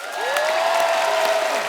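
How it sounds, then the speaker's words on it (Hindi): A television studio audience bursting into loud, dense applause to welcome the composer duo Anand-Milind, with a sustained whistle ringing over the clapping. "जोरदार तालियां आनंद और मिलिंद साहब के लिए।"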